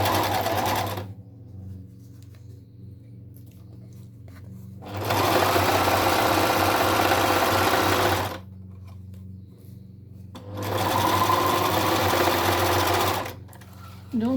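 Sewing machine stitching a washable fabric mask, running in two loud bursts of several seconds each with quiet pauses between, a low mains hum underneath throughout.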